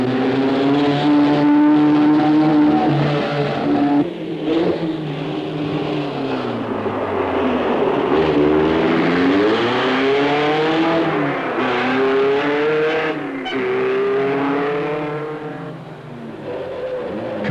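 Rally cars race along a mountain road at La Turbie during the 1972 Monte-Carlo Rally, engines close and loud, revving and shifting pitch up and down through corners over about eighteen seconds.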